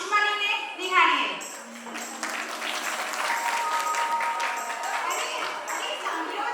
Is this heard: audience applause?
yes